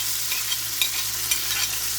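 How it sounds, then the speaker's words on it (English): Potatoes sauteing in olive oil and butter in a pan give a steady, close sizzle with faint crackles and a few light clicks of stirring, with no voices. "I'm just going to saute these up a little bit just to get a golden crust on it"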